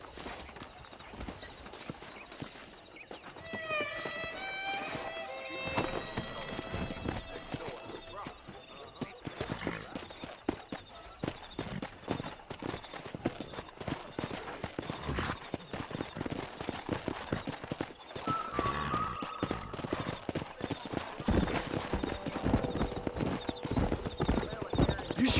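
Horses clip-clop and neigh while being wrangled in the Red Dead Redemption video game, with steady hoofbeats, several whinnies, and game dialogue talking over them throughout.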